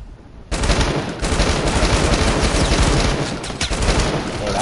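Loud, close automatic gunfire in a video game, a sustained rapid burst of shots starting abruptly after a short quiet moment, with dense rattling reports continuing to the end.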